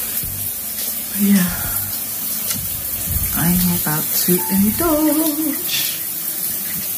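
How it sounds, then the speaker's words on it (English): An outdoor shower in Jamaica running steadily, a constant hiss of spraying water throughout, with someone speaking briefly over it. "The outside shower."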